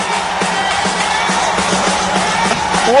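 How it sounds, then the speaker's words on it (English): Indoor futsal arena crowd roaring in a steady, dense wash of cheering and whoops, loud and continuous throughout with no pauses. "Absolute party atmosphere in here. These fans really enjoying the game of futsal."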